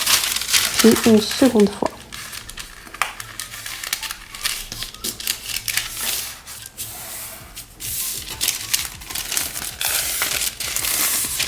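Sheets of baking parchment cut into 30 cm squares being folded and creased up close, giving loud crinkling and rustling throughout, while someone speaks briefly.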